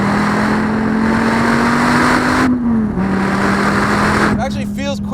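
SRT Viper GTS accelerating hard in a straight line, a loud sustained engine drone climbing steadily in pitch, dipping briefly at a gear change and then pulling again, with voices talking over the end.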